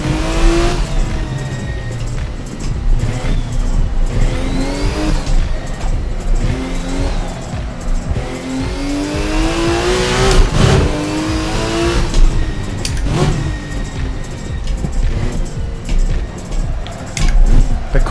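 A Porsche 936 on a hot lap around a vintage street track in Napoli, in a racing game, its engine loud and close, rising and falling in pitch through repeated revs and gear changes.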